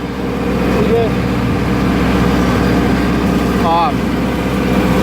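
LS XG3025 tractor engine running steadily while pulling a brush hog along rutted trails, a continuous close, loud drone with someone talking over it.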